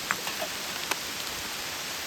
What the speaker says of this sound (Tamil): செம்ம மழை பெஞ்சிட்டு இருக்கு வெளியே